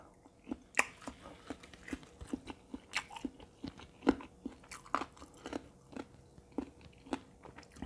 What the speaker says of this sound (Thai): ลูกชิ้นเอ็นจะมีความกรึบ